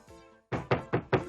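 Knocking on a door: three or four firm, hollow raps in quick succession, close and fairly loud, following a brief faint tonal sound at the start.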